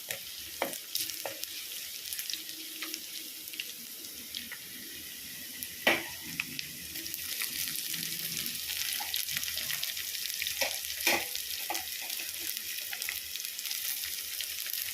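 Crushed ginger and small shallots fry in hot oil in a pan, a steady close sizzle with intermittent spoon scrapes and clinks as they are stirred, no talking.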